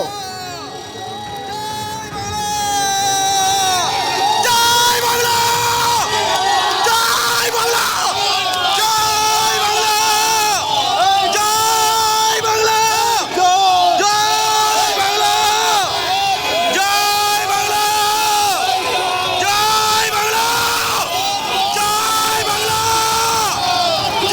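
A crowd of Trinamool and BJP supporters shouts slogans during a scuffle at Suvendu Adhikari's convoy on Chandrakona Road, with loud, dense, continuous chanting and yelling that rises after a quieter opening and holds steady throughout.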